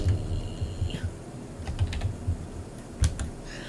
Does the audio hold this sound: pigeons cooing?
no